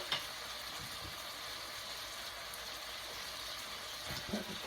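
Cabbage goes into a hot pan of tofu stir fry, giving a steady, even sizzle of frying throughout, with a couple of brief louder bursts near the start and end.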